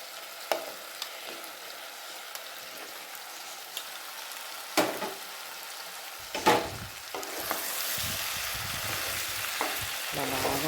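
Taro root pieces dropping into a pan with mango curry, a few sharp clattering hits, then a steady moderate sizzle and stirring scrapes as they fry, close by, with no talking.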